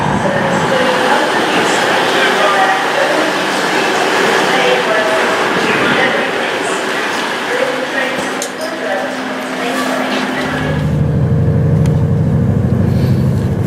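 A Voyager train departs Crewe station, heard from on board: a steady rumbling hum of motion that shifts to a deeper drone near the end, with voices talking faintly under it.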